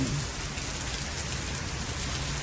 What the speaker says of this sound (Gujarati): વરસાદ જો આમ ભૂક્કા બોલાવી દીધા વરસાદે